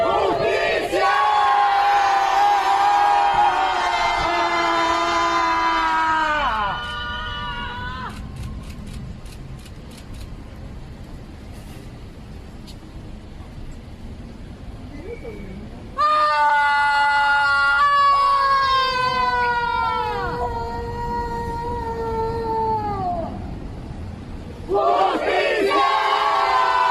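A protest crowd outside Palacio de La Moneda shouts and chants loudly in long, rising and falling surges, easing off into a quieter stretch of murmur before the roaring cries swell up again.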